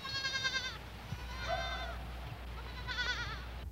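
Three wavering bleats from a goat come a second or so apart, fairly faint over a low rumbling background.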